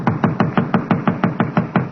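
Knocking on a door in a radio drama: eleven firm, evenly spaced raps in a quick steady rhythm, close and loud, with no voices over them.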